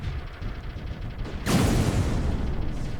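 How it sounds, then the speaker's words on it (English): Weapon in the strategy game Particle Fleet: Emergence firing repeatedly, a steady low rumbling barrage that swells into a louder, denser burst of blasts partway through, with no talking. "it's shooting alright. Recharging and firing"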